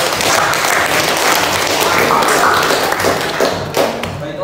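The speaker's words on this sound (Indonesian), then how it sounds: "Baik, tepuk tangan dulu." Students in a vocational high school classroom applaud after a group presentation, a short burst of dense, close clapping with a few louder taps and thumps.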